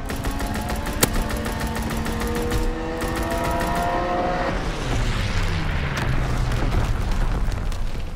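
An artillery barrage rumbles and booms through a Call of Duty WW2 battle, loud, continuous and close, with sharp cracks and a falling whine mixed in.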